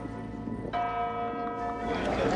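Church bells ring out from the bell tower in Messina, Sicily, a sustained, resonant peal with strong overlapping tones that swell partway through.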